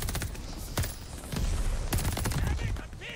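Rapid STG44 assault rifle fire in Call of Duty Vanguard, several sharp close bursts of shots with brief gaps between them amid busy game noise.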